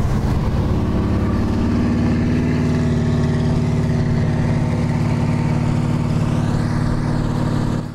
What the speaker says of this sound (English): when you hear the motor run,